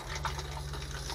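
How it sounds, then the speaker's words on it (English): An RV toilet pedal held halfway down lets water run into the bowl without flushing, giving a steady, close rushing and filling sound with a low hum beneath it. "If you just push it down about halfway, it'll actually add water to the bowl without flushing the toilet."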